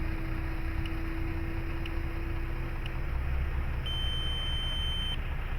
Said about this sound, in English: Well, my timer's ticking down.